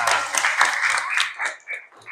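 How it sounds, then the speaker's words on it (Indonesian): A classroom of young students claps together in a brief, busy burst of applause, with scattered voices mixed into the clapping. "Baik, tepuk tangan dulu untuk kita semua."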